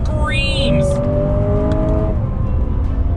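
A 2020 Lexus GS F engine revs loud and close inside the cabin, a steady rising whine over a heavy low roar.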